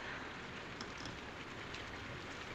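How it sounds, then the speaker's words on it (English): Rain falling in a soft, continuous wash of hiss, faint and unbroken, with no one speaking. "It's this rain, I guess."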